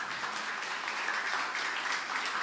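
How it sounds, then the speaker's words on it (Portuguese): A church congregation applauds during a sermon, a continuous even wash of clapping heard at moderate volume with no voices on top. "Posso ouvir uma salva de palmas para o nosso Deus?"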